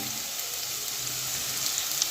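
Cauliflower and potatoes frying in a pan at home give a steady, even hiss of sizzling oil, close and continuous through the short stretch with no talking.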